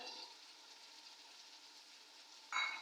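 Tomatoes frying in a pot for vegetable pulao, a soft, faint sizzle with a brief louder clatter near the end, no voices.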